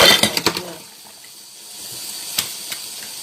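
Water splashes over plates as dishes are washed by hand, with several sharp clinks and a busy spray at first, then a quieter trickle of running water with occasional knocks.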